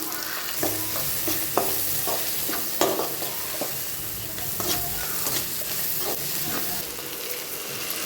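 Chopped tomatoes sizzle with onions in hot oil while a spoon stirs them, making repeated scraping strokes and clatters over a steady frying hiss.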